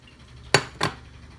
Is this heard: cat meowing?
no